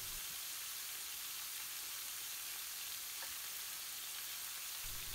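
Ground spices for a dhansak, including coriander, salt and chilli powder, fry in a pan with a steady close sizzle and a few faint stirring scrapes.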